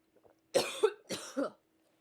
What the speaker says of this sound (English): The way you might cough.